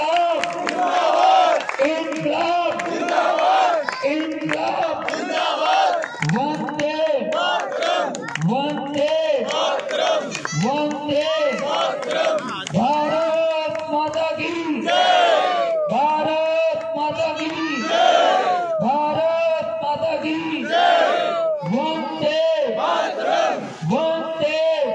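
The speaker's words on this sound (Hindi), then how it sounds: "जोरदार तालियों के बीच" A crowd at a Shaheed Bhagat Singh statue unveiling during a Tiranga Yatra rally in Bikaner roars with loud, sustained cheering and rhythmic chanted shouts, many voices overlapping nonstop throughout.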